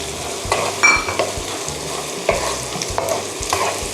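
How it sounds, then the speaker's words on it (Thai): Meatballs, fish sauce and basil leaves being stir-fried in a pan for a Thai three-flavour dish: a steady close sizzle broken by repeated scraping strokes of a spatula, with no talking. "ผัดแป๊บเดียวไม่ต้องนานเดี๋ยวมันจะเหี่ยวเฉาเกินไปไม่สวย"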